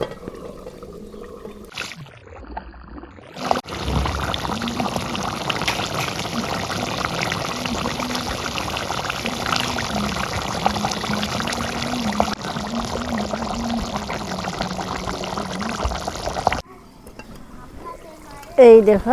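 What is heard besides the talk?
pouring water into chicken curry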